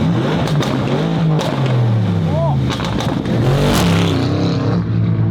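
A Bentley supercar engine revs loudly and roughly, rising and falling in bursts, with a voice briefly audible over the throaty noise.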